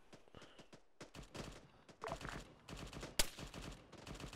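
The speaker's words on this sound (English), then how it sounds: "We're getting shot at." Rapid gunfire in ArmA 3 cracks in irregular bursts and scattered single shots at varying distances, with one sharp louder report near the end, all fairly faint overall.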